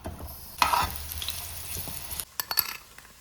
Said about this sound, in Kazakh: Енді майға пиязды қуыратын боламыз.